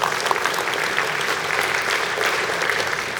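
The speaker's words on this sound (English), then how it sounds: "The staff, you can clap if you want to." Concert audience at a school band encore concert applauding the staff, a steady, full wash of clapping from a sizable crowd with no talking.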